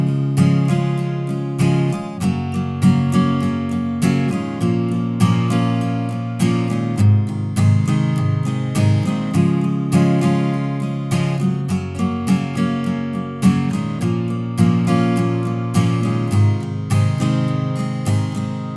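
Acoustic guitar strums the Mr. Brightside chorus by The Killers in steady down-up eighth notes, one chord change per bar, full and continuous, close and loud without any voice.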